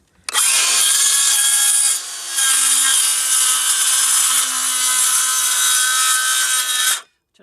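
A DeWalt DCS391 18V cordless 165mm circular saw spins up and rips through a piece of wood, a loud sustained whine with a brief dip midway before the blade winds down and stops.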